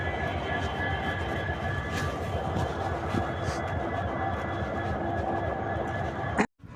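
A train engine idles steadily at a rail station, a dense continuous rumble with constant hum, close and loud, ending in a sudden cut to near silence.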